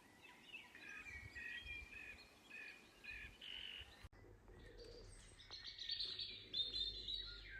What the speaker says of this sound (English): And the birds are singing so